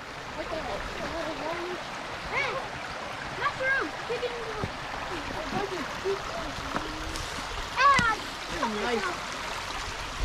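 Fresh spring stream water flows steadily on an off-grid rural property, a constant rushing wash under scattered voices and some higher chirp-like calls.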